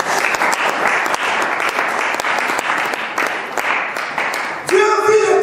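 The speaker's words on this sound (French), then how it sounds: "Acclame le Seigneur." A church congregation claps steadily in a full, even roar of applause that continues for several seconds before a voice cuts in near the end.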